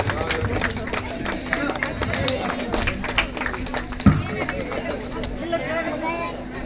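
A crowd at a Dasara festival literary gathering in Kamatagi claps for honoured parents, a steady patter of applause mixed with crowd chatter and babble throughout.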